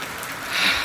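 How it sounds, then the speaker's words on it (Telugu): Rain falling steadily, a soft broadband hiss that swells slightly toward the end; no voices. "ఎట్లుంది చూడండి వర్షం కుడుతుంది"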